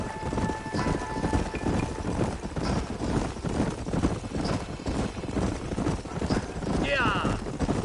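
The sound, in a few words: horses' hooves clip-clopping while riding in the video game Red Dead Redemption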